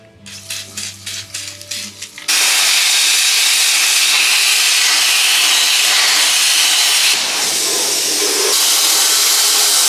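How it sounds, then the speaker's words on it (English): PB Blaster penetrating oil sprayed generously onto bolts on a plate of a 1978 Ford Bronco: a few seconds of rhythmic rattling, then a loud, continuous aerosol hiss that runs steadily to the end with a brief dip. "grab some PB Blaster and drown these bolts"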